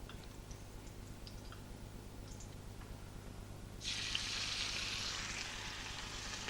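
Meat dropped into very hot butter starts a bright, steady sizzle partway through, loud and close over a quiet kitchen hum, with no talk over it.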